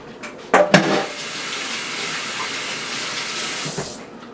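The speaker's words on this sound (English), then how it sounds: "Let me put this up and wash my hands" Water runs steadily from a kitchen tap into a sink as hands are washed, opening with a few knocks and splashes before settling into an even rush that continues close by and stops near the end.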